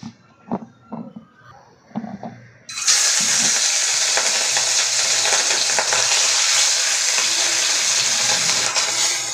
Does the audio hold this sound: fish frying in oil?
yes